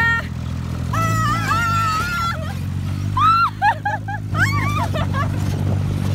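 Off-road vehicle engine droning steadily as it drives fast over a desert sand dune in Egypt, low rumble throughout with excited voices shouting and talking over it.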